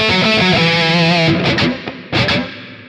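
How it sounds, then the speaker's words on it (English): Distorted electric guitar chords through a Mooer GE200 multi-effects unit with hall reverb, loud and alone, several struck chords ringing out into long reverberant tails with pauses between. "hall reverb"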